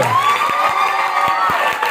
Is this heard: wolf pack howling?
no